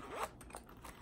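A zipper on a bag is pulled open, a short close raspy zip with a few quick ratcheting bursts, quiet and heard alone.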